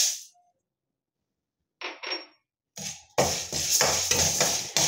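Urad dal is poured into a pan for dry roasting while making moringa leaf powder, giving a short patter of grains, then a louder, sustained rattling and scraping of lentils against the metal pan, close by and with no talk.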